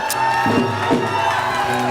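Audience at a comedy event at LPU applauding and cheering, loud close clapping with a few whoops rising over a dense crowd for a couple of seconds.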